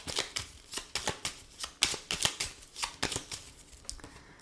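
Lenormand cards are shuffled by hand in quick, crisp riffling bursts, close and repeated steadily throughout with no voices.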